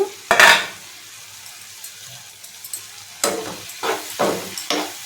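Tomatoes cook in a pan on the stove. Soft sizzling sits under several loud, clattering scrapes of a spoon stirring against the metal, and there is no speech.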